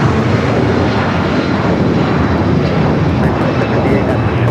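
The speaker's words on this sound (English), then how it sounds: "This is United Airlines 1981 taking off to Newark on the 757-200" United Airlines Boeing 757-200 takes off at LAX, its engines roaring loud and broadband throughout, steady and close, with voices talking over the thrust.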